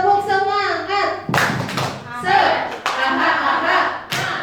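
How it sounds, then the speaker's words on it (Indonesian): At a teacher training session, a group performs a rhythmic spirit clap: bursts of clapping and thumping land in a short pattern, interleaved with loud chanted voices. "Tepuk semangat."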